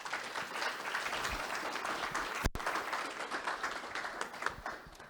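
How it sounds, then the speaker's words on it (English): Audience applause for the speakers closing a real estate investment talk: a dense, even wash of many hands clapping at moderate volume, with one brief sharp break midway. "Can we have a big round of applause for our speakers?"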